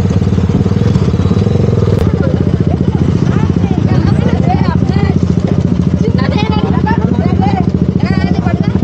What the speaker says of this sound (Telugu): ఇన్ని బైక్స్ ఒకటేసారి వచ్చేసరికి